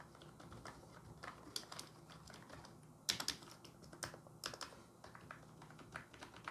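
Keys clack on a Philips Momentum SPT8264 gaming keyboard in uneven bursts of typing, fairly close, with a few louder key strikes and no talking.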